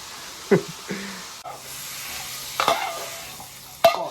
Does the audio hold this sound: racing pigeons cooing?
no